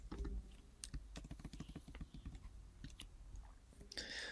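Code typed on a computer keyboard: quick, quiet runs of close keystrokes that pause briefly, then resume with a few scattered taps.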